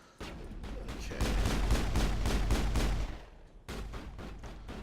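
Rapid bursts of gunfire from the video game Mass Effect, a short volley followed by a longer sustained stretch of shots, then a brief pause and more firing, loud and close with no talk.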